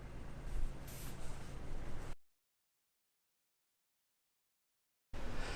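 Spray adhesive hisses onto carpet in a DIY campervan conversion: a close, continuous spray for about two seconds, then silence, then another burst starting at the very end.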